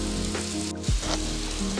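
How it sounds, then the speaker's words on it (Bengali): Palm fritters (taler bora) sizzle steadily in hot oil on a medium flame, with a spatula stirring them about once, under a constant tonal backdrop. "মিডিয়াম ফ্লেমে বড়াগুলোকে লাল করে ভেজে নিতে হবে"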